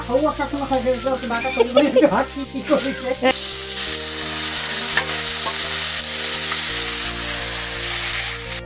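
Potatoes fry in a home kitchen pan, first under a high voice with bird-like chirps, then a loud continuous sizzle and hiss with a low steady hum beneath, punctuated by occasional stirring clicks.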